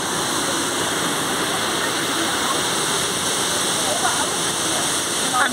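Steady, full rushing roar of a waterfall on the Neckar River in Heidelberg, heard close and continuous with no break in the flow.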